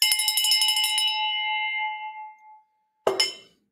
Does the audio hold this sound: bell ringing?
yes